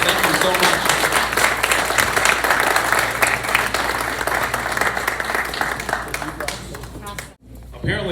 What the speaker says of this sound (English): Let's give a round of applause for our legislators.